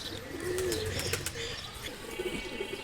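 Pigeons in a loft for sale, older breed coloured birds, coo in low throaty calls that overlap continuously, close by, with light chirps and a brief flutter of wings in the background.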